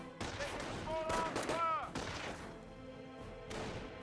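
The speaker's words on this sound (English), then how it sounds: "Only one of those Panzer Grenadier models are firing." Gunfire in the Company of Heroes real-time strategy game as Panzer Grenadiers shoot at rifle squads: sharp bursts and cracks of small-arms fire mixed with game sound effects, under a commentator's quiet talk.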